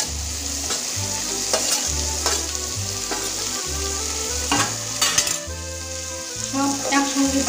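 Leftover rice with grated carrot is stir-fried in a pan: a constant sizzle runs under repeated scraping and clinking strokes of a spatula against the pan, close and fairly loud, with no talking.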